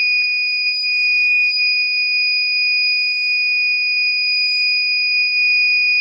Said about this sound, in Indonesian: Buzzernya bunyi.